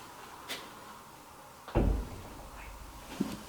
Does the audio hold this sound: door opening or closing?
yes